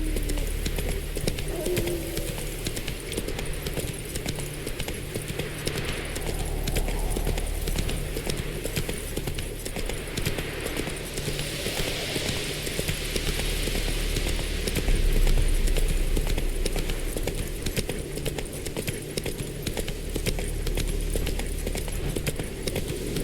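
A horse in The Witcher 3 trots steadily, its hooves clip-clopping in an even rhythm throughout, close and fairly quiet, with game ambience underneath.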